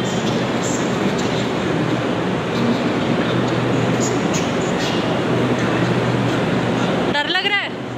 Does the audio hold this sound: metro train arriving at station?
yes